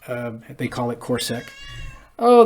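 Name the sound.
pet cat meowing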